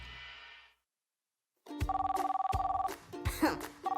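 Telephone rings in a children's cartoon about a vehicle repair workshop, heard as a bright electronic ringtone pulsing in short repeated bursts after a brief silence, loud and close, alone.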